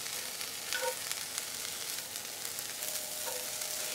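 Shredded dried pollack roasting in a pan gives a steady, close crackling sizzle with faint scraping stirs, continuous and fairly quiet.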